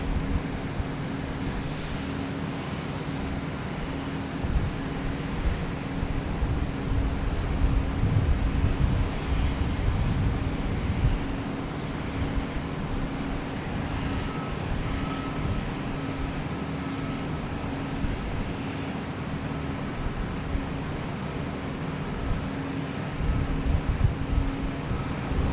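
An airliner taking off from runway 13 left at Dallas Love Field on a rainy day, a broad, steady roar of jet engines heard from a distance along with wind buffeting, sustained throughout with no talking.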